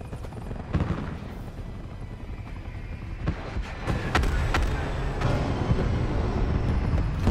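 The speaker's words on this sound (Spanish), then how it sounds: "Se acerca un helicóptero de ataque hostil." A hostile attack helicopter approaches in the Black Ops 4 video game, its rotor rumble building steadily amid sharp bursts of gunfire and booms, loud and continuous.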